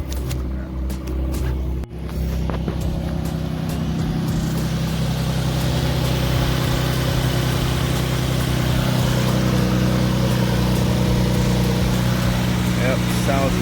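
An Infiniti G37 with a Z1 cold air intake idles steadily and loudly up close, a constant low engine drone with a small bump early on.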